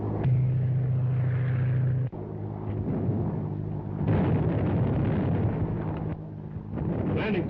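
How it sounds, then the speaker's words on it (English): Tear gas bombs landing around people in a 1935 film serial, heavy rumbling bursts over a droning engine-like background, with a sharp break near the middle and a louder blast after. "Landing tear gas bombs all around them, but they don't seem to have any effect."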